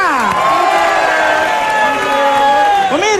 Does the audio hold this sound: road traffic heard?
no